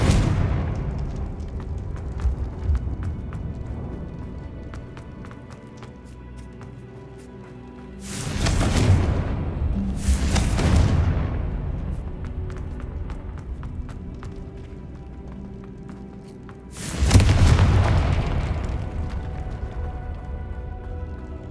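Confringo fire spell explosions in the video game Hogwarts Legacy, three loud booming blasts with rumbling tails spaced several seconds apart over quieter game ambience, with no talk.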